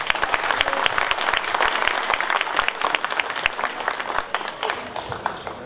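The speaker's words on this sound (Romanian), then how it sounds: "Aplauze!" A crowd at a Romanian mayoral candidate launch event claps to welcome the mayor onstage, a sustained round of applause that thins out toward the end.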